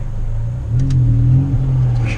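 A Ford Focus ST fitted with the FR1 power upgrade accelerates from inside the cabin, its engine note rising and swelling into a steady, loud mid-range drone before easing slightly.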